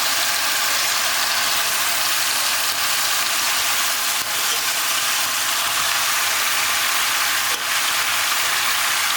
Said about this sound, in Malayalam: ഈ ചിക്കൻ നന്നായിട്ടൊന്ന് സോട്ടേ ചെയ്യണം കേട്ടോ.